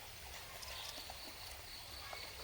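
A small stream of water flows steadily where soil is washed off, a continuous close, soft rushing trickle with a faint high insect-like hiss over it.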